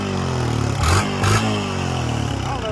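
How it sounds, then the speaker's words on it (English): Honda Rancher ATV engine, reportedly smoking badly, idles roughly with two sharp revving bursts close by, then settles back to a steady rumbling idle. "Rev it up."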